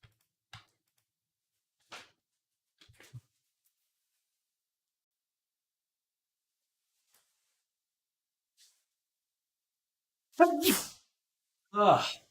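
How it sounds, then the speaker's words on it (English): A single sneeze bursts out near the end, followed quickly by a second short explosive burst, after a long near-silent stretch with a few faint clicks while sculpting 3D characters. "Need to sneeze."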